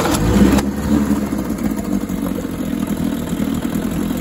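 A 1953 Scott-Atwater 7.5 hp Gold Pennant outboard motor runs steadily on a slightly rich fuel mixture, its close, continuous engine drone holding an even pitch after a brief louder burst at the start.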